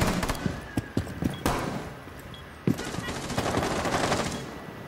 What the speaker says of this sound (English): I was getting shot by her.